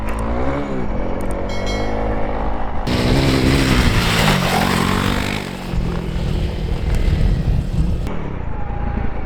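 A 2024 Honda Transalp XL750 motorcycle ridden offroad revs and accelerates hard, its engine rising and falling through gear changes with clattering over rough ground, loud and close throughout.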